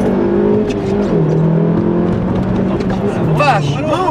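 A car engine drones and revs as the car accelerates, a steady close hum that climbs in pitch toward the end, with excited voices talking over it inside the vehicle.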